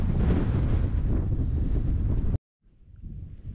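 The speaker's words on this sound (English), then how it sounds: "every now and again the wind just seems to gust through pretty strong and then it dies down for a minute" Strong wind gusting through an abandoned 1800s cottage in a wild Scottish glen, a loud buffeting rush on the microphone that drops out suddenly, then returns softer and builds again.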